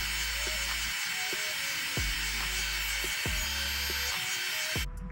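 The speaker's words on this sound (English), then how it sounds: "saw this back and forth, slowly work our way through" Fishing line drawn back and forth through the adhesive behind the M badge on a BMW M3/M4, giving a steady rasping, sawing scrape with soft repeated strokes about once a second, close and alone.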